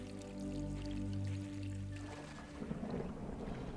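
Water flowing and splashing in the video game The Dig, a faint, gentle stream of trickling and pouring over a low, steady hum, turning choppier toward the end.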